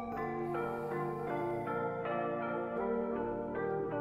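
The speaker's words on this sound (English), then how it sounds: "It's a very dissonant bell." A dissonant bell-like tone rings in a repeating pattern within a hip-hop song, steady and fairly quiet with no talk over it.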